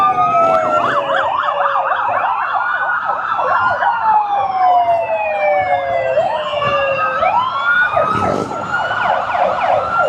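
Several police car sirens wail and yelp over each other at a Mardi Gras parade in Baton Rouge, Louisiana, loud and close, their rising and falling tones overlapping for the whole stretch.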